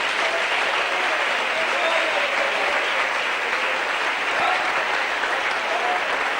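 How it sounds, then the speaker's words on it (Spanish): A church congregation breaks into sustained applause during a Spanish-language sermon, a thick, even roar of many hands clapping at steady loudness for the whole stretch. "Un aplauso poderoso al Señor."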